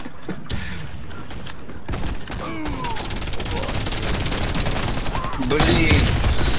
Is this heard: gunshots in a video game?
yes